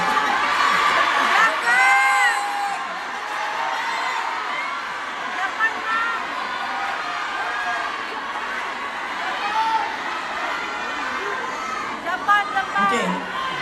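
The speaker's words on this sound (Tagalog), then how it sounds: "Tatagal tayo sa sigawan ninyo, sandali lang." A crowd at a politician's meet-and-greet in Tokyo shouts, whoops and cheers in high, lively waves, with a voice talking over the continuous crowd noise.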